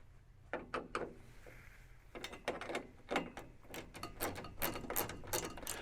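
Clamps on the roof of a Kawasaki Mule SX 4x4 UTV are tightened, giving quiet close-up clicks, scrapes and ratcheting bursts in irregular clusters, soft and near.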